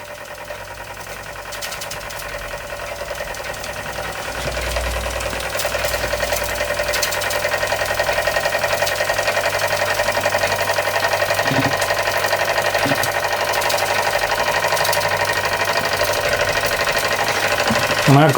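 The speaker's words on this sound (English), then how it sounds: "The little Kassner engine under steam for the first time." A small Kassner vertical-boiler model steam engine runs under steam with its burner turned right down, giving a steady, even mechanical whirr and chatter that continues throughout without pause.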